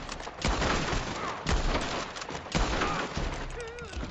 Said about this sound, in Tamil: ரெண்டு பேர் சேர்ந்து எத்தனை புல்லட் அடிக்கிறது அது